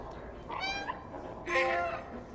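A cat in the video game Stray meows twice, a short mew followed by a louder, longer one, close and clear over a quiet background.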